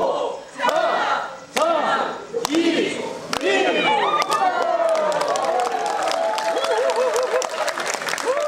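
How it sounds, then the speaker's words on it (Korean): Crowd at the Naro rocket launch, South Korea's first space launch vehicle, bursting into excited shouts, cheers and applause, with voices rising and overlapping loudly and continuously. "우리나라 첫 우주 발사체인 나로우가 하늘로 솟구치는 순간 함성이 터져 나옵니다."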